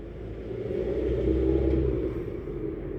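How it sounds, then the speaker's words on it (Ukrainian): A car engine rumbles steadily close by, swelling slightly louder in the middle before easing off, with no talking. "машина їде без пропуска"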